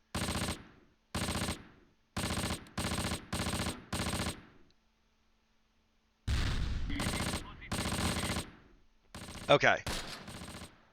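Close Combat wargame in a 1944 Normandy battle: rapid bursts of machine-gun fire crackle in even, repeated volleys, then a pause and further heavier bursts, loud and close, with a brief spoken word.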